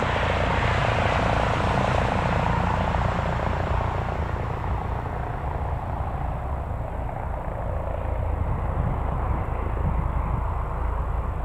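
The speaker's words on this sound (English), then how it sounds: "I think we've got a chopper somewhere. I can hear it. Oh, I think it's just there. I think it's the police chopper." A police helicopter flying near Newcastle Airport gives a loud, continuous rotor and engine drone that holds steady throughout.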